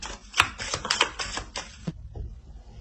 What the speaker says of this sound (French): Alors, on va rajouter une carte.